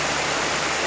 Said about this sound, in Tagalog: Ito yung ilog na galing yung tubig doon sa falls.